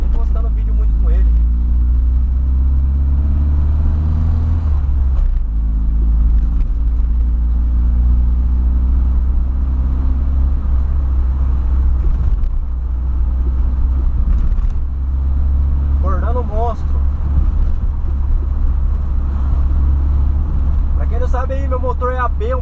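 A Volkswagen Voyage with an original AP 1.6 engine and loud exhaust runs with heavy low rumble throughout, the pitch shifting as it revs, while someone talks over it.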